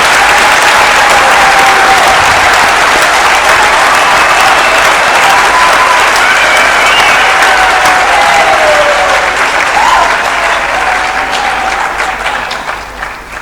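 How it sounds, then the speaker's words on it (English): Sustained, loud applause from a graduation ceremony audience for the new graduates of a university engineering faculty, steady dense clapping filling the hall for over ten seconds before thinning slightly at the end. "And let us give our graduates a big hand of applause."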